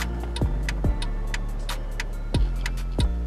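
A Mercedes C200 CGI's hazard lights tick in a slow, steady rhythm inside the car, a few crisp clicks spaced about half a second apart over a low idle hum.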